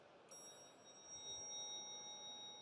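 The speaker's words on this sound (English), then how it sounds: "If you look at the oscillation of the bell, the oscillation carries on for quite a few seconds if you listen to it." A small bell pinged once, its clear high tone ringing on faintly and decaying slowly over a few seconds in a quiet room.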